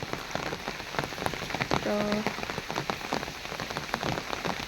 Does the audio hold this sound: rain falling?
yes